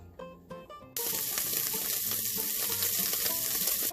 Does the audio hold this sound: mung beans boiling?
yes